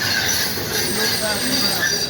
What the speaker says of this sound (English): Did this train loop back around again, or is this a different train?